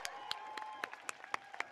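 A few audience members clap for a singer at a live Santa Fe justice event, giving sparse, distinct individual claps that sound fairly close and thin.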